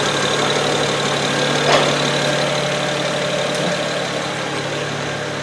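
A BMW 335i with the N54 engine idles after a valve cover gasket replacement, a steady, smooth hum heard close up with no other sounds over it.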